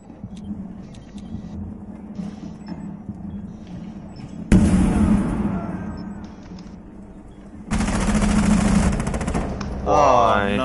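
Bursts of automatic gunfire and loud shots from a tactical shooter match, in several dense stretches over a steady low background hum, with a few sharper blasts near the end.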